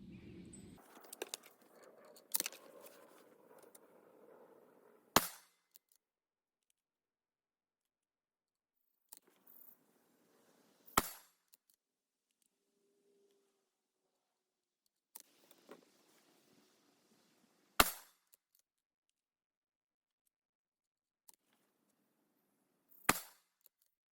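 Rifle shots from a 300 Blackout loaded with 13.5 grains of H110 behind a NOE 310-177 cast bullet, fired outdoors on a cool day: five sharp, loud cracks spaced several seconds apart, with a brief stretch of quiet handling noise early on.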